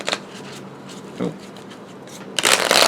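Tarot cards riffle and flutter in a quick shuffle, with a soft burst at the start, a brief one midway, and a louder, denser riffle at the end.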